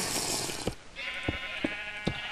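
Several short Minecraft sheep bleats, three or four in quick succession over a hissing background.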